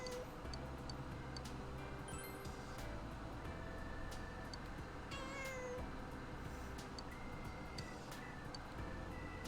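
A cat meows inside the Persona 4 Golden video game, short tonal calls over a steady bed of game background music and ambient tones, fairly quiet throughout.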